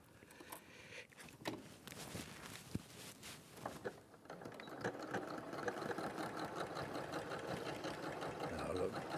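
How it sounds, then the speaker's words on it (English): A quilting sewing machine stitches half square triangles, its fast mechanical whirr starting midway and building steadily, while people chat over the start of the stitching. "I'm just going to sew those"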